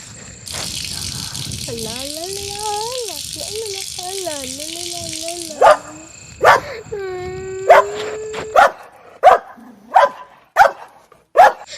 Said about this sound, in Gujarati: આ કૂતરું તો માર બાજુ ભણતું ભણતું આવે